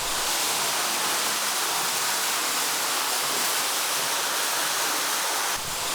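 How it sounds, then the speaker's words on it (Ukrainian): A pool water pump in a bathhouse runs after being switched on, giving a loud, steady rushing hiss of water that continues unbroken before cutting off abruptly near the end. "Вмикаємо. Будь ласка, вода в насосі, все працює"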